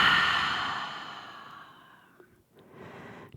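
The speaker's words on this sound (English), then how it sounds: "Open mouth, exhale, let it go." A long, breathy open-mouth exhale during yoga breathing practice, loud at first and trailing off slowly, followed by a softer breath after a short pause.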